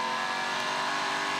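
A BNT V8 touring car laps Pukekohe circuit, its engine a loud, steady, high-revving drone heard from onboard without pause, with no talking over it.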